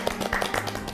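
Hands clapping a few times in a studio as a New Year's cheer for viewers, a brief close round of claps with faint background tone.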